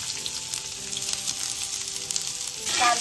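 Onion fries in a pan with curry leaves and garlic, a dense continuous close-up sizzle with small crackling pops and a brief stirring burst at the end.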